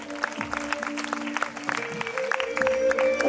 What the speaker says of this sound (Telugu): మరి ఒకసారి చప్పట్లు కొట్టి అభినందిద్దాం.